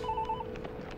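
A telephone rings in a Hindi-dubbed South Indian film scene: a short burst of repeated electronic ring pulses, fairly clear and close, that stops partway through and leaves faint room sounds.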